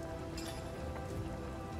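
Rain in Divinity Original Sin, a dense steady hiss of falling drops on surfaces with faint scattered patters, continuous and fairly soft, no voices.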